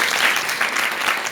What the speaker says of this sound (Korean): 이런 박수 좀 쳐주세요